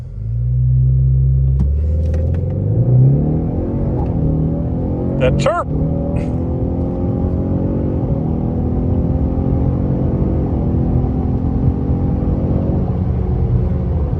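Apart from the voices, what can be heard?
S650 Mustang Ecoboost with MBRP quad-tip exhaust accelerating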